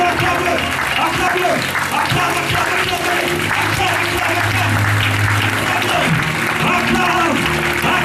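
A church congregation claps and cheers in praise of the Lord, a dense, steady wash of applause mixed with voices and music running throughout.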